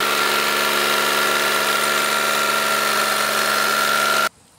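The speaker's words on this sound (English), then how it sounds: "Now the tractor's free from the loader, can slowly back it up." A John Deere compact tractor engine runs at a steady idle as it backs slowly away from a detached loader, a constant mechanical drone with a tonal whine, close and loud, cutting off abruptly near the end.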